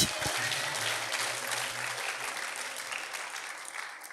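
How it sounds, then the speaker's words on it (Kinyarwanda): Congregation applauding in a church service, a dense sustained clatter of clapping hands filling the room steadily for a few seconds with no voices standing out. "Komera Imana amashyi"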